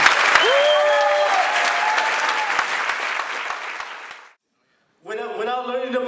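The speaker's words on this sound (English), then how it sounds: "So let's all give a round of applause to our next honoree" A gala crowd applauds an honoree with loud, sustained clapping that fades and then cuts off abruptly. After a brief silence, a voice is heard speaking.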